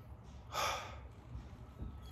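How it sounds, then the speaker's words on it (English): A single deep inhale through the nose, taken as a breathing exercise for easing COVID-19 symptoms, heard as a brief close airy rush in the middle of a quiet moment, followed by a faint breath. "Just deep inhale, deep inhale,"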